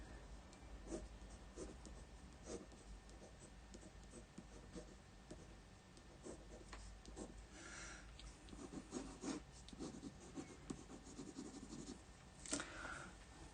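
A pencil scrapes across paper during sketching. The strokes are quiet, close and continuous, with irregular scratchy rubbing and short bursts, and no talking.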